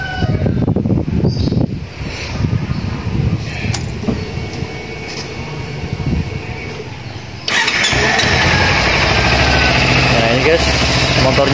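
A Kawasaki Ninja 250 cc motorcycle engine cranks and runs, with a voice talking over it, then settles into a loud, steady idle close by.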